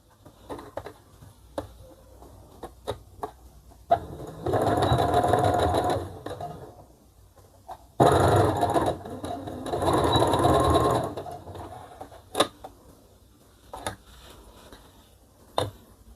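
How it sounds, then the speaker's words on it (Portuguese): A sewing machine stitches the side seams of children's overalls in three close, loud runs of rapid, even needle chatter, with quiet gaps of fabric handling and light clicks between them. "Nós vamos passar uma costura nas laterais daqui pra fechar aqui."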